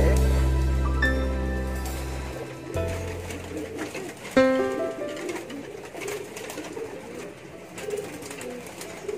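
Pet pigeons, some of them crossbreeds, cooing in a loft. Low repeated coos rise and fall over nearly ten seconds along with fluttery movement and background noise, at close range.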